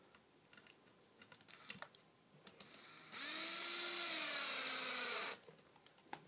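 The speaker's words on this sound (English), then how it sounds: "I'm not getting carried away with the drill" A cordless drill drives screws into pre-drilled holes while a mini rig is being assembled. One sustained whirring run of a few seconds stands out close up, its pitch rising and then settling, with quieter handling clicks before it.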